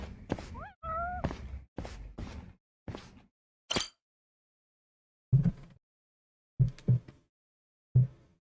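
A cat meows in the video game Judgment, giving a few short rising meows at the start. Scattered soft thumps and shuffling sounds follow after a pause, with no one talking.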